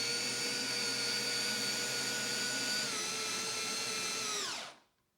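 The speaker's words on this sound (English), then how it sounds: "I just use an attachment for my drill." A power drill fitted with an attachment winds a lift mechanism raising a platform for slip-cast pottery molds, running as a steady high whine up close before spinning down and stopping.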